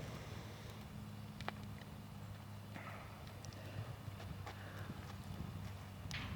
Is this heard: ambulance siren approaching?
no